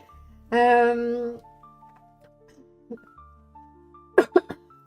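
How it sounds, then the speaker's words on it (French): One deep, harsh cough rings out close by, then a few quieter throat sounds and a short burst of smaller coughs near the end. "Je tousse un peu, pardon"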